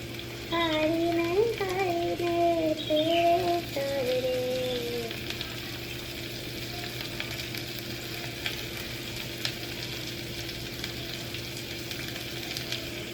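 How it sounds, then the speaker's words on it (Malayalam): Onions fry in a pan for a beef roast with a steady, moderate sizzle throughout, while a voice sounds briefly near the start. "സവാള ഞാൻ ഇട്ട് കൊടുക്കാം."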